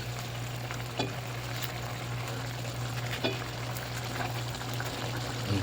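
Fried milkfish cooking in a simmering pan with other ingredients, a steady soft sizzle and bubbling with occasional light clinks of stirring.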